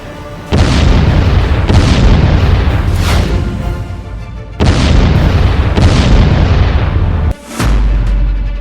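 Ballistic missile strikes from an Iran attack on Israel: huge, loud booming blasts, one after another, each with a long rolling rumble and crackling debris, repeating roughly every second or so without talk.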